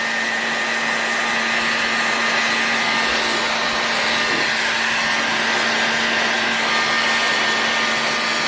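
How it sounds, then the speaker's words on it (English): Heat gun blowing steadily while warming parts of an OS 61VF model engine during disassembly, a close, constant whirring rush with a faint tonal hum and no pauses or voices. "I have to keep moving this around so I don't point my heat gun at something that I shouldn't point it at"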